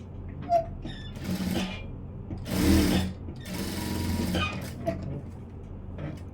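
A sewing machine stitching the front part of a blouse, heard as short bursts of motor whir and needle clatter separated by pauses and small handling clicks, close and moderately loud, with no talk.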